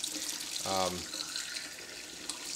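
Extremely hot tap water runs from a faucet into a glass votive candle jar during wax cleaning, a close, continuous splashing rush that lasts throughout, with a brief tonal murmur near the start.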